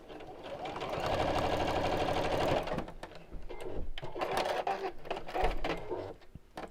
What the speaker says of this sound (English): I'm sewing within the seam allowance